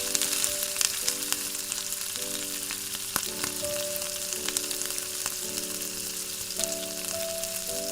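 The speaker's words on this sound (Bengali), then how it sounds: "এবার আমি চিলি সসটা দিয়ে দিচ্ছি। চিলি সসটা দিয়ে একটু নাড়াচাড়া করে এবার আমি টমেটো সসটা দিয়ে দেব।" Chili chicken sizzles and fries steadily in a pan as chili sauce is stirred in, with a dense, continuous crackle and scattered clinks of the spoon against the pan, with no talking.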